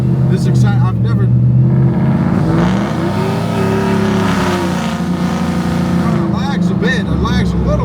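A Ford F-150 pickup truck drives along with a loud, steady engine drone that rises and falls as it revs, heard close from inside the cab, with people talking over it.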